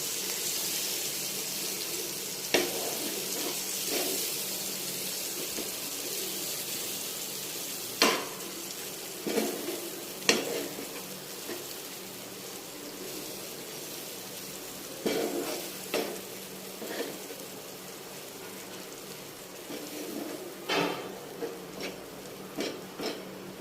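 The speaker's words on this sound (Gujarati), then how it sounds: "હવે આપણે ખોડેલા લસણ અને કંકોડાને ચટણી નાખી દઈશું. એને મિક્સ કરી દઈશું." A spiny gourd and garlic chutney is stirred in a pan, giving a low continuous sizzle broken by scattered scraping knocks and clinks of the spoon against the pan. No voices are heard.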